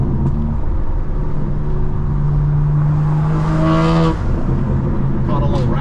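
A 2024 BMW M4 Competition xDrive drives with a loud, continuous engine drone and exhaust rasp that climbs in pitch and then drops off, heard close from inside the cabin as people talk over it.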